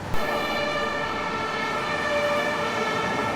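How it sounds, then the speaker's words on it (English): A Swedish fire truck siren in Stockholm wails steadily in a sustained, harmonic tone over a constant background rumble, fairly loud and unbroken. "That's what a fire truck sounds like in Sweden."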